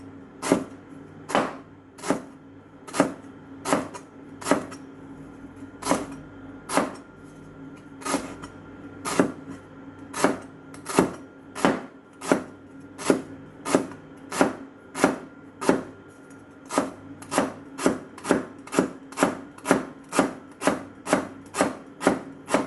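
Knife chopping lemongrass on a board for tom yum soup: a steady series of crisp, sharp, evenly paced chops, close and clear, with no talk.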